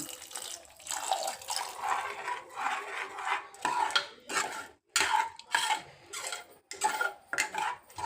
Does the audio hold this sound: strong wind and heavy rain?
no